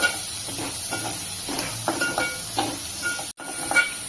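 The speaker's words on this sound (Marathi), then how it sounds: "कांदा चांगला परतून घेऊया आणि गॅसची फ्लेम मी मोठीच ठेवलेली आहे" Onions frying over a high gas flame for bombil masala, a steady broadband sizzle and hiss with soft rhythmic scraping pulses, close and fairly loud, with a brief dropout near the end.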